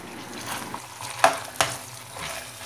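Ground pork with chopped potatoes and carrots stirred in a frying pan, a soft sizzle broken by a few sharp spatula scrapes and knocks against the pan.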